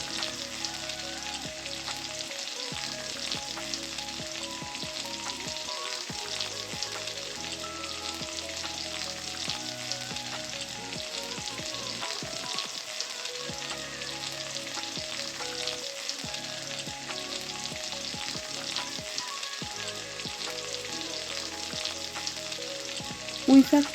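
Malabar spinach (pui shak) stir-frying in a pan, a continuous soft sizzle with steady crackle and occasional scraping as the greens are stirred, moderately quiet and unbroken for the whole stretch.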